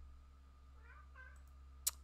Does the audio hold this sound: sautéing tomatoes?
no